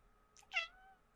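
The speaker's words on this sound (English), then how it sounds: "Hi, tiny cat." A small cat gives a single short meow close by, rising then trailing off, in a quiet indoor room with no talking.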